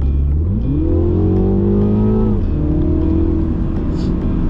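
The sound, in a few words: sports car accelerating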